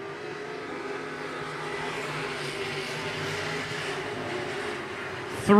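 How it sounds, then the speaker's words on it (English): Wingless sprint cars in a UMSS race roar steadily around the track after the green flag, a sustained engine drone from a distance that swells loudly near the end. "revs are up and green is out one more time for Jake Kuba in the 2K."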